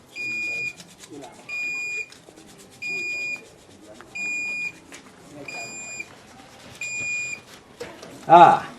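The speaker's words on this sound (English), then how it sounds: "It also have the alarm system to prompt you." An electronic alarm on a solar-powered hand washing machine beeps in six evenly spaced bursts, each about a second long and fairly loud. A short louder noise comes at the end.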